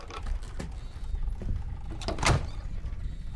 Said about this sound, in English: That door locked.